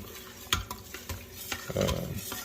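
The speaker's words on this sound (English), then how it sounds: "see, that start boiling because I got it on the saute function" Pork cooking liquid bubbles in an Instant Pot on the saute setting, a quiet steady simmering sizzle broken by a few soft clinks and stirring knocks, with no talking.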